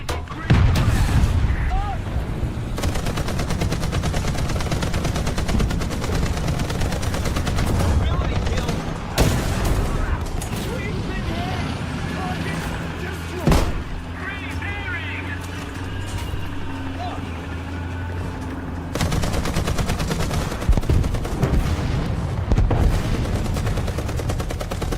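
Tank gun firing in a video game, several heavy booming shots spaced across the scene amid rumbling engine noise, with someone talking throughout.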